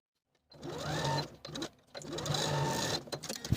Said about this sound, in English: I'm just going to edge stitch it in place from one side of the opening to the other, just using a regular straight stitch.